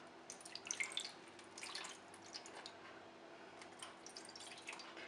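A glass of water pours into an oven tray holding a leg of lamb with cognac, making faint, soft splashing and trickling with a few drips, quiet and close, with no talk.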